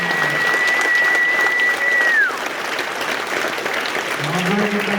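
Audience at a Junior BassMaster National Championship briefing applauding someone, a loud sustained round of clapping with a whistle-like tone sliding down partway through and a voice beginning to speak near the end.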